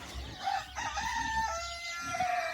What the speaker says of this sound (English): You are officially the guardians of chickens and roosters and turkeys and guinea fowl and ducks.